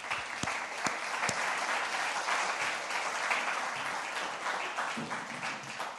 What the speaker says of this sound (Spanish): Dele un aplauso al Padre, por favor